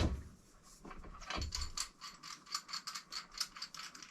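Unscrewing a threaded fitting on a U Flow mini keg home bar tap tower, giving a close, dry ratcheting click sequence, irregular at first and then settling into steady rapid clicks.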